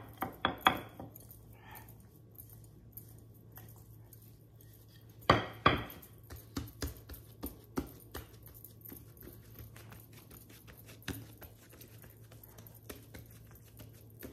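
A knife slicing through apple bulka dough on a kitchen counter, heard as a few sharp taps and scrapes near the start and a cluster of clacks midway, followed by scattered lighter knocks against the surface.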